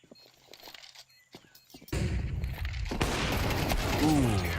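Gunfire from a professional Counter-Strike match on the Ancient map, with a burst of loud, dense rifle shots and rattling fire after a quieter stretch, mixed under excited commentary from casters.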